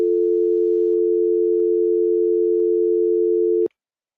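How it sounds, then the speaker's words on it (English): A telephone dial tone on a sports call-in radio show: a single steady, clean tone holding for several seconds, then cutting off abruptly. "a dial tone."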